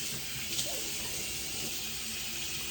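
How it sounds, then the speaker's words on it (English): Tap water runs steadily into a sink during rinsing, a quiet continuous hiss and splash with one small clunk partway through, no voices. "I'm trying to wash out my sink now because I just poured the water down into the sink."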